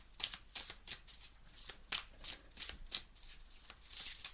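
A deck of cards is shuffled repeatedly in a steady rhythm, each riffle a crisp, close flutter, about a dozen in quick succession with no voice over them.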